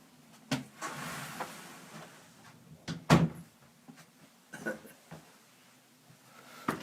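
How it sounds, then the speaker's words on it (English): A room door being shut amid a few scattered knocks and clatters, one louder thump in the middle, with quieter bumps around it in an otherwise quiet indoor space. "let me just shut my door."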